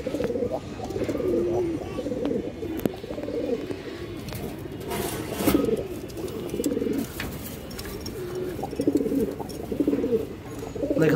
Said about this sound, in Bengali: এই দেখেন খুব সুন্দর এক জোড়া কবুতর মাশাল্লাহ